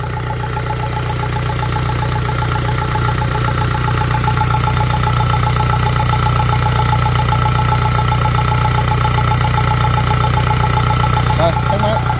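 A Kubota V2403 diesel engine idles, a loud, steady low rumble with a regular ticking pulse that holds evenly for the whole stretch, with people talking faintly in the background.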